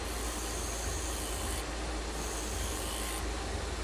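A wood file rasps along the curve of a turned wooden chess bishop in continuous close scraping strokes, a steady gritty rubbing with subtle changes in pitch between passes.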